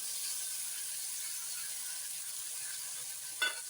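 Green chillies and chopped brinjal hit hot oil with turmeric in a pan for a Kerala brinjal mezhukkupuratti, a steady broadband sizzle running throughout with a brief louder crackling burst near the end.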